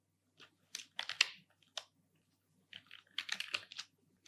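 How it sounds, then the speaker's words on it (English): wp-admin being typed on a computer keyboard: a few quick clusters of crisp, close key clicks split by a short pause, quiet and with no talking. "To manage it, we type wp-admin in URL."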